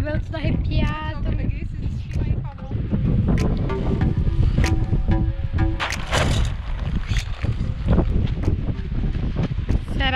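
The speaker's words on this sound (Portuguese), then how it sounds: "Será que a barraca vai aguentar esse vento, amor? Ó o vento, gente, tá caindo tudo, tá voando tudo." Strong gusts buffet a campsite tent on a mountain trail, loud continuous wind roar with flapping fabric and rattling, while people talk over it.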